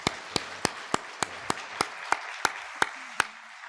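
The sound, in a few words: congregation applauding for a student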